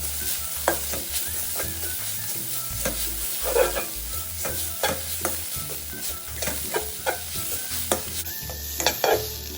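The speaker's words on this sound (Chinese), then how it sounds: "将切好后的梅菜倒入炒干" Chopped Hakka preserved mustard greens are dry-fried in a pan, a spatula scraping and tossing in frequent irregular strokes over a soft, steady sizzle, close up with no talk.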